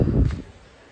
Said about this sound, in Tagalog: Parang dumaan yung tornado, yung hangin.